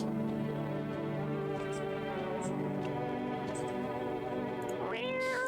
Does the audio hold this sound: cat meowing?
yes